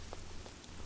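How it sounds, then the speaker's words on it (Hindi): Rain falling, a soft, hissing patter with a few faint drop taps, quiet and brief with no voices. "सुबह सुबह बारिश कहाँ से आ गई,"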